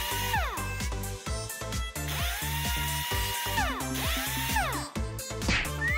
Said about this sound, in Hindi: एक प्लाईवुड शीट को स्क्रू से जोड़ें।